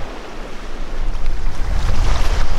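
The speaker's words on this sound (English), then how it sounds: "it was impossible to fly fish anymore in this kind of wind." Strong wind gusting across the water in North Norway during Arctic char fly fishing, a loud continuous roar with wave wash and microphone buffeting that swells louder toward the end, no voices.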